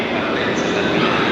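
Old train standing at a platform in Genoa Principe station, a steady loud rumbling hum with a broad roar of station noise, continuous over a short stretch.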